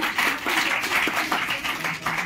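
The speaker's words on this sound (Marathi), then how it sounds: "जोरदार टाळ्या वाजवून त्यांचे स्वागत करूया" An audience at a university Pali and Buddhist studies recitation competition applauds to welcome the performers, with steady, moderately loud clapping from many hands sustained throughout.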